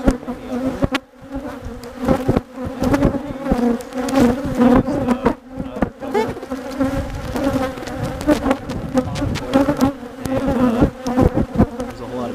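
Agitated honeybees swarm and buzz loudly around an open hive during a mid-March inspection, a dense, close, droning hum with fluctuating intensity and handling knocks throughout.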